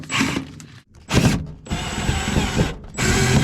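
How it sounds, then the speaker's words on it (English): Screws being backed out to free a washer and dryer unit inside an RV, with short whirring bursts of a power driver separated by brief pauses, close and fairly loud. "So I should pull these screws out to get a whole, allow us to pull the washer and dryer out a little more."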